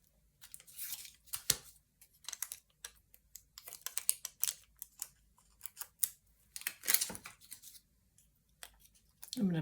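Scissors cut through a large paper cutout for a craft box, giving a series of sharp snips and crisp paper rustles in uneven bursts, close and fairly quiet.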